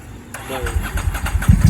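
Ducati 748 motorcycle engine starting up and running rough with an uneven, misfiring note, heard close and loud with a choppy rhythm while someone speaks over it.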